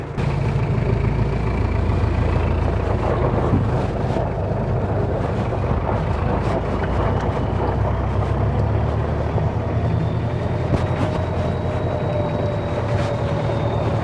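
A 1974 Jeep fitted with a Toyota diesel engine drives along with a steady, loud, low engine drone and road rumble throughout, and a faint whine rises and falls over the noise.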